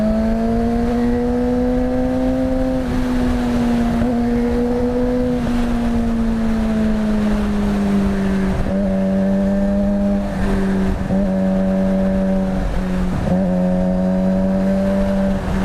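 A Suzuki GSX-R sport motorcycle engine drones loud and close at speed, its pitch holding, then dipping and rising across several gear changes as it pulls hard, with steady wind rush underneath and no talking.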